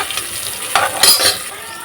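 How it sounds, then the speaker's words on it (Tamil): Onions frying in a pan, a steady bright sizzle with a couple of stirring scrapes, close and alone with no talk. "இப்போ வெங்காயத்தை போட்டிருக்கேன்,"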